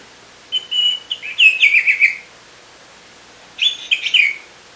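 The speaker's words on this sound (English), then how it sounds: "if you tap it," A toy bird gives two bursts of bright electronic chirping, separated by a short silence, sharp and close.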